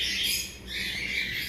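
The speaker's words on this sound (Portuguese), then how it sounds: "Esse canário aqui, ele não aparece no vídeo das aves do plantão" A canary chirps with bright, quick trills in a high register, a near and steady run of song that dips briefly in the middle and has no talk over it.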